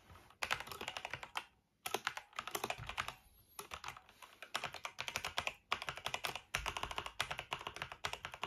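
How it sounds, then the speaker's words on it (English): Close, steady clatter of keys on an Azio mechanical keyboard for the Apple iMac, typed in quick rhythmic runs separated by short pauses, alone with no voices. "Let's have a quick type, shall we?"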